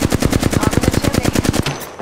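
Rapid machine gun fire in a video game, a steady burst of evenly spaced loud shots lasting nearly two seconds before cutting off.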